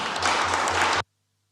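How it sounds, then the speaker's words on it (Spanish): Audience applause for former Chilean president Ricardo Lagos at a constitutional convention session, a dense burst of clapping lasting about a second that cuts off abruptly to silence. "Queríamos darle un aplauso"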